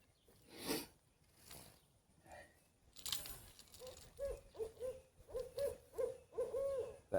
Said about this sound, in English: That owl's really talking.